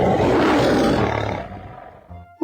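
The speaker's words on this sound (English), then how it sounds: "L-I-O-N, lion." A lion gives a single powerful roar that is loud at first and then fades away. A short sound follows at the very end.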